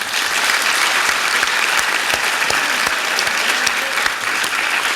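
An evening talk's audience applauds steadily, a dense, even wash of many hands clapping at close range that holds without pause, with no voices over it.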